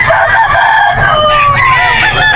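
Loud fighting roosters crowing close by at a gamecock market in Bocaue, Bulacan, long drawn-out calls overlapping one another against steady background noise.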